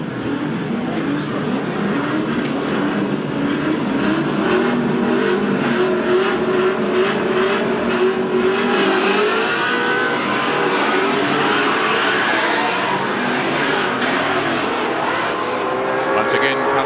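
Racing cars in a 1979 AMSCAR heat at Amaroo Park roar continuously at close range, engines revving and shifting, with a commentator talking over the steady motor noise throughout.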